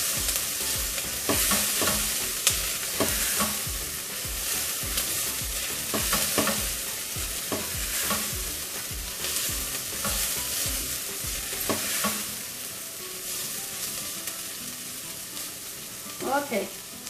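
Ginger being stirred and sautéed in a hot pan, with repeated scraping strokes of a spatula over a steady sizzle, close by, and a voice talking faintly in the background.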